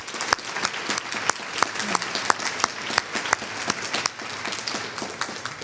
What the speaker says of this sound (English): So how about a round of applause for them as well?